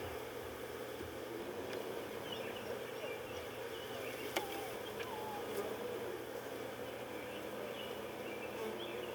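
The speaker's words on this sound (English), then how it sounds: "There's bees in there" Honeybees in an opened hive buzz continuously nearby at a low level, a dense, steady hum with occasional clicks and taps from the inspection.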